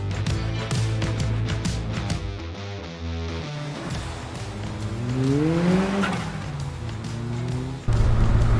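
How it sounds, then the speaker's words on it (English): A loud turbocharged engine revs and pulls hard, with a whooshing intake and fluttering overrun bursts as the throttle lifts, heard close and continuous. "That noise is incredibly addictive with that induction and that turbo overrun."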